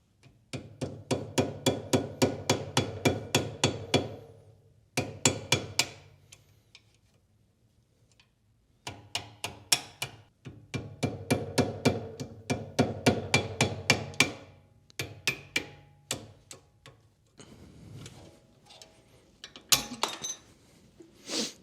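Repeated hammer blows punching brake pad pins out of a BMW F80 M3 brake caliper, sharp metallic strikes coming in fast rhythmic bursts of a dozen or more with short pauses between, close and loud.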